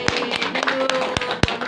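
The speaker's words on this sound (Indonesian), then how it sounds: "kasih tepuk tangan dong" Brief applause at an office coordination meeting: a few sharp, scattered hand claps at uneven intervals over a murmur of background voices.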